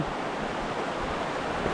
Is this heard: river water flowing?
yes